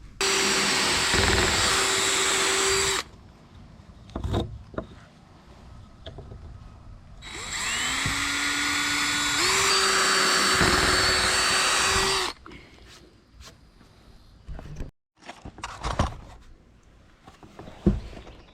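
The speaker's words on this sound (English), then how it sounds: "as we drill through the 2x4s" A power drill whines loudly in two long bursts, boring through wooden 2x4 boards for roof purlins, with clattering and handling noises between them.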